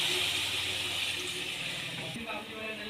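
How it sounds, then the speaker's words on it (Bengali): Water pours from a vessel into a pan of fried egg curry masala, a steady splashing rush that tapers near the end. "এবার পরিমাণ মতো জল দিয়ে দেব।"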